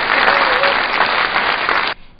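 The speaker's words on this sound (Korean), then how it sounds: "박수 주세요" An audience at a hot spring pageant gives loud, dense applause for a contestant's introduction, sustained clapping that cuts off abruptly near the end and leaves only faint room noise.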